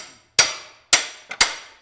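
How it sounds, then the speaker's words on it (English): A lead hammer strikes the chrome knockoff wheel spinner on a 1934 Bentley: three sharp metallic blows with decaying ring, the last preceded by a lighter tap, close and loud in an otherwise quiet space. "So they've got lead hammers so that it doesn't wreck the chrome"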